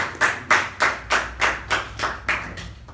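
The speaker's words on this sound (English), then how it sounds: "Please help me welcome Toastmaster Balaji AS with a huge round of applause." A Toastmasters meeting audience claps to welcome a speaker: about nine crisp, evenly spaced claps in a steady rhythm, fairly close and alone, with no talking.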